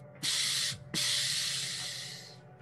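Two forceful breath exhales through the mouth, the first a sharp burst and the second longer and slowly trailing off, close and fairly loud, during a guided breathing exercise with no talking.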